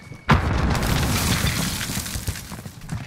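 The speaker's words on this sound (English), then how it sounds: "Throwing grenade!" A grenade detonates in a battle royale video game with a sudden sharp boom, followed by a sustained rumbling, crackling blast that tails off over a few seconds.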